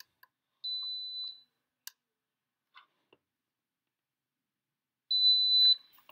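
An alarm.com water sensor being unpaired from a Z-Wave gateway gives two sustained high beeps about four seconds apart, with faint clicks and taps in the near-silent room between them.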